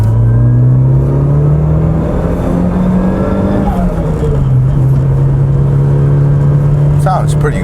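A Toyota Altezza on a test drive, its engine droning steadily under load, then the pitch dips as it shifts and it resumes pulling, loud and close from inside the car, with talk over the engine.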